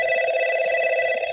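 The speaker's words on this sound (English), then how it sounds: "sorry, that's my desk phone." An office desk phone rings steadily at close range, a sustained electronic warble that continues unbroken and fairly loud from start to finish with no talk over it.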